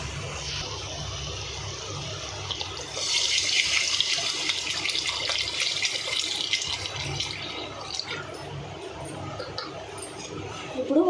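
Water poured into a pot of frying chili-spice paste and oil for an Andhra-style gongura prawn curry, a steady rushing pour lasting several seconds in the middle, moderately loud against faint kitchen background.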